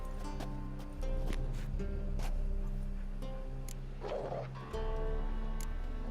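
Dogs bark and whimper in The Witcher 3 video game, sounding as short, scattered yelps and barks over a steady bed of in-game ambience and music.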